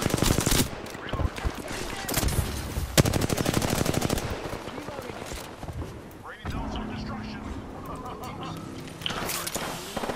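Rapid automatic gunfire rattles in Apex Legends, a battle royale shooter, in quick bursts and single cracks, with an excited voice talking over the shooting.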